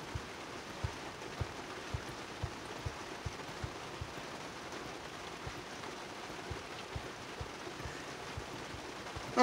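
Steady rain falling outside before work, a constant soft hiss with faint, regular low taps beneath it and no speech.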